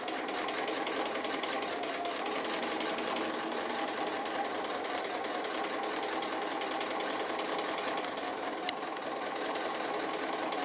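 A sewing machine stitching applique runs steadily for the whole stretch, a continuous fast mechanical whirr and needle chatter at moderate level with no pauses.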